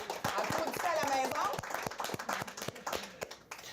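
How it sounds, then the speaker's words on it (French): Clapping from a small group at a general assembly meeting, a sparse, uneven patter of hands that thins out, with people talking over it. "Applaudissez à la"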